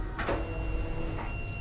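Fargo DTC4000 card printer whirring through its cleaning cycle, with a couple of brief mechanical bursts over a steady low motor hum at close range.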